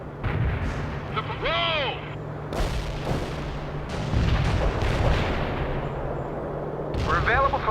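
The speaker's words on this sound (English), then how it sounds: "Artillery is ready. Firing at coordinates." Artillery firing in the real-time strategy game World in Conflict: heavy booming shots and explosions roll out in several bursts, with a radio-style voice speaking briefly between them.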